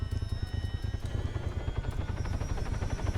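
Helicopter rotor beating in a fast, steady low thump with a faint whine above it, continuous and fairly near throughout.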